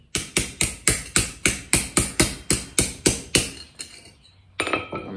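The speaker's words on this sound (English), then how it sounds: "I'm hammering right here on these little corners here, just to kind of smash those in there just a little bit." A blacksmith hammers the small corners of a forged metal tulip flower, a dozen evenly spaced sharp ringing blows in quick rhythm, then a few lighter taps and a final clanging strike, close and loud.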